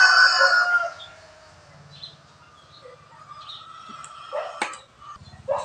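A rooster crows loudly nearby, followed by quieter clucking, scuffling and a few sharp bangs close to the microphone.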